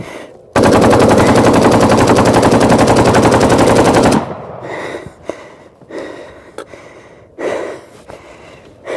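A Kalashnikov rifle cooks off in a fire, rounds firing in a dense, rapid burst for about three and a half seconds, then silence broken by heavy breathing and a few faint pops.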